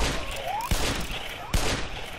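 Two sharp gunshots about a second apart in the video game Black Mesa, punchy and close, over a busy game soundscape with a brief rising whistle.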